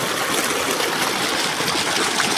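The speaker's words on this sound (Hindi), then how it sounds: "ये ट्यूबवेल चल रही है" A continuous rushing of water pouring steadily from a running tube well in a wheat field, a dense, even gushing with no pauses and no voices.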